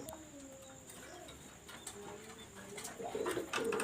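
Teddy bass pigeons coo softly in short repeated calls, with faint chirps and shuffling around them and a slightly louder cluster of sounds near the end.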